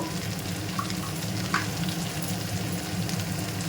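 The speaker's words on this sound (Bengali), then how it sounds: "তারপরে এবার আমি ভালো করে কষাবো মধ্যে জিরে গুঁড়ো" Ghugni masala with cumin powder being sautéed in a pan, giving a steady low sizzle and frying hiss with a couple of faint spatula scrapes, close and continuous, with no voices.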